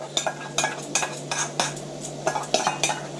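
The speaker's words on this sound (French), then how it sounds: "Et là, vous allez verser votre yaourt." Utensil scrapes and clinks in a pan as yogurt goes into a spiced beef kofta curry base over low heat, a run of short, fairly close stirring knocks repeated every half second, no voices.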